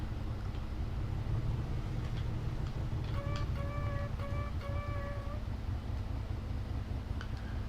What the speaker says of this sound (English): That's not a trumpet, that's the brakes.